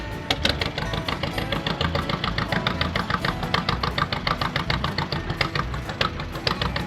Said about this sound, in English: The sound you're about ready to hear is a big 2-cylinder John Deere start.